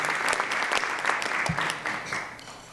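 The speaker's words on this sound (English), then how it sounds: "give another round of applause to Jim Torrento, our trumpet, master trumpet player" Warm applause from a concert audience for a college jazz band's trumpet player, a steady full roar of many hands that holds evenly, then tapers slightly near the end.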